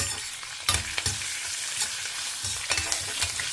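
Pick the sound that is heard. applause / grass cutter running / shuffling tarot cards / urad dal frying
urad dal frying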